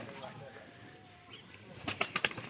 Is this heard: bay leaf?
no